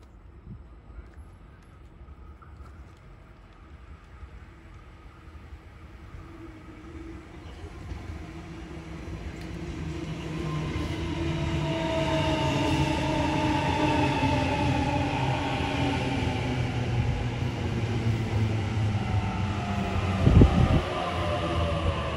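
A train on the Bankstown Line approaches a station from a distance, its rumble swelling steadily into loud rolling noise with faint metallic squeals and a sharp clank near the end.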